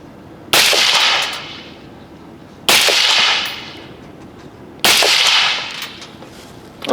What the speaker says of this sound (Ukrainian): ми спробуємо е зробити постріл з упору